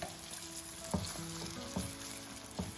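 Youtiao dough sticks deep-frying in very hot oil, a steady close sizzle and bubbling hiss with occasional soft clinks and pops as the sticks are turned, with no talking.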